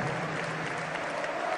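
A crowd applauds the reigning champion team at a cup final, a dense, even patter of clapping that holds steady throughout, with no voices rising above it.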